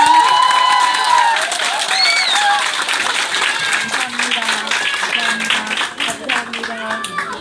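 Applause from a crowd of families at a kindergarten graduation ceremony, steady clapping filling the room while voices and speech carry over it throughout.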